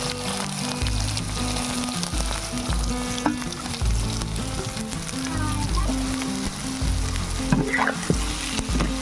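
Soya chunks fry in a pan with salt, turmeric and ginger-garlic paste, giving a steady, close sizzle broken by repeated scraping stirs, with no voices.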